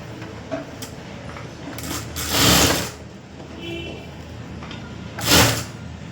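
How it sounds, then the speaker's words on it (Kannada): A sewing machine stitching a full blouse lining runs in two short mechanical bursts, each a second or less, close by over a steady room hum. "ಈ ಥರ ಸ್ಟಿಚಿಂಗ್ ಹಾಕಿ"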